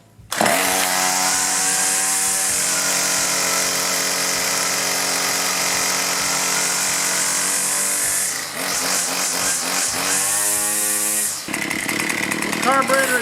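A two-stroke weed eater engine fires up and runs loud and close, its buzzing whine holding steady and then revving in surges after a brief dip as the choke is eased.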